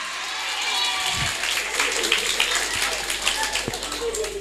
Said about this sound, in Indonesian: LP3I, boleh minta tepuk tangannya?